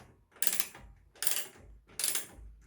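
Bolts being tightened during assembly of a home gym rack, three separate bursts of mechanical ratcheting, each lasting about half a second, close by with short pauses between.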